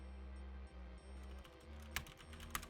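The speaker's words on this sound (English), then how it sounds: "I hit enter. My keyboard. Typing in a thing. It makes a funny noise." Quiet computer keyboard typing, a run of soft key clicks that ends in a couple of sharper, louder presses like the enter key being hit, close up with no voices.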